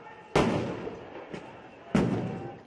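Stun grenades going off during a protest at the U.S. embassy in Baghdad: two sharp, loud booms about a second and a half apart, each with a decaying echo, and a fainter thump between them over crowd noise.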